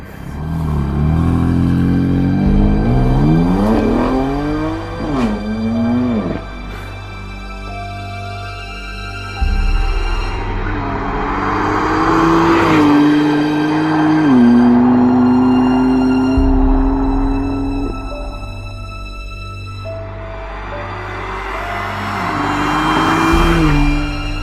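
A 2018 BMW M4 Coupé Competition Pack with M-DCT gearbox drives on the road, its engine revving hard through rising gears with clear shift breaks, then settling into a loud droning cruise before building again.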